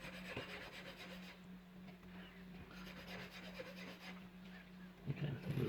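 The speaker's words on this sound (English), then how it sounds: "I will file this side." A metal file rasps steadily across the edge of a SIM card, a faint, continuous back-and-forth scraping with a low hum beneath it and a slightly louder stroke at the end.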